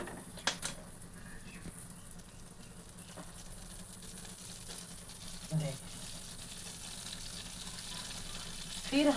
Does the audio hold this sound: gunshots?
no